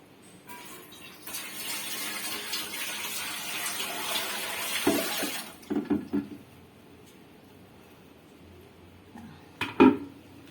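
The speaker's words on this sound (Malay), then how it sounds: "so kita masukkan 2 liter air" About two liters of water pour steadily into a T-Fal pot being set up for home canning, a close, hissing stream lasting several seconds, followed by a few light clinks and knocks of the pot.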